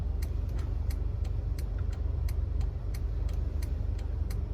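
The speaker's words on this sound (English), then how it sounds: "So I'm driving right now, driving home." A pickup truck with a failing AC clutch runs steadily along a road, its low engine drone and tyre roar constant and near, with faint regular ticking over the top and no talk.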